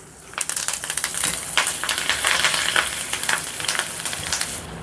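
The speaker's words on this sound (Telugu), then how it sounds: "ఇప్పుడు స్టవ్ని మీడియం ఫ్లేమ్లోకి మార్చుకొని మిగిలిన పాస్తాని కూడా ఇలాగే ఫ్రై చేసుకుందాం" Pasta pieces fry in hot oil over a medium flame, giving a steady, dense crackling sizzle with scattered pops and stirring scrapes that carries throughout, close and fairly loud with no voices.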